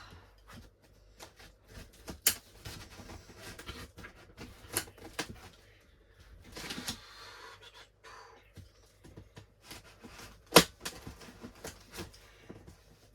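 A cardboard parcel of bonsai supplies cut open down the middle, heard as close scratchy slicing, tearing and rustling in irregular bursts with a few sharp snaps.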